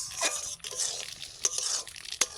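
Spoon stirring dry semolina in a pan over low heat, with short scraping and gritty crunchy strokes in an uneven rhythm, close up and fairly quiet.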